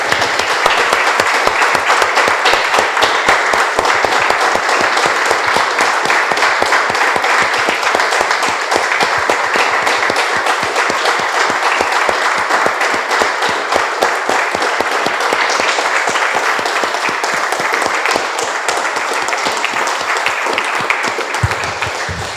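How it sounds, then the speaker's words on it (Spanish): A church congregation applauds together in a steady, dense, loud clapping that runs unbroken for over twenty seconds without fading. "Damos un aplauso, hermanos, al Señor."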